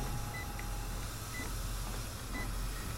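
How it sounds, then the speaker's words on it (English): Repeated electronic beeping in the Saw II: Flesh and Blood video game: short, evenly spaced high beeps about once a second, faint over a constant low hum and noise, with no speech. "I am so tired of listening to the beeping."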